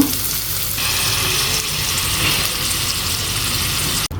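Blended coconut tipped into spices frying in oil, a loud, dense and continuous sizzle close by with faint stirring, broken by a brief dip near the end.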